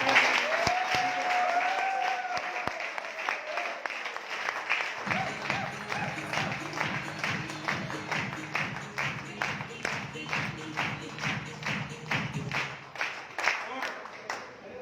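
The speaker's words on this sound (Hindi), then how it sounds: "अगर अच्छा लगा है तो तालियां से बजाएं" A seminar audience in a hall gives a sustained round of applause that settles into rhythmic, unison clapping, with some talk and crowd noise mixed in early on.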